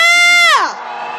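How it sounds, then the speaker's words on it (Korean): At a rainy-day candlelight protest march, a loud sustained cheer rises from the crowd, one strong voice sliding downward before it dissolves into a softer wash of crowd noise. "다시 한번 연대하는 마음으로 함성 한번 질러보겠습니다."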